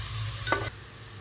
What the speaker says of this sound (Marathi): आता कांद्याला थोडंच भाजून घ्यायचं